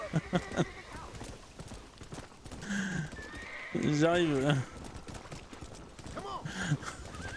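Horse hooves clip-clopping in the video game Red Dead Redemption, with a whinny and snorting breaths from the horse, while someone talks briefly over it.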